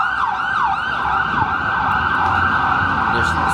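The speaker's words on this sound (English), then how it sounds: "we are waiting till the ambulance move away" Ambulance siren sounding in downtown Toronto, a steady wailing sweep carried over a dense rumble of city traffic, fairly loud and continuous with no voices on top.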